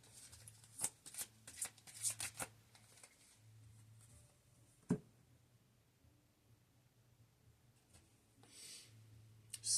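Tarot cards being shuffled up close, a quick flurry of riffling clicks and card slaps at the start, then quieter shuffling and scattered taps, with a brief burst of riffling near the end.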